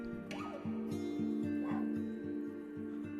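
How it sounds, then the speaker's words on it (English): A dog barks and whimpers repeatedly in the background, faint and somewhat distant, over a rhythmic pulsing game soundtrack. "you can hear my dog barking in the background"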